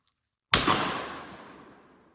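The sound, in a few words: shotgun shot at a clay target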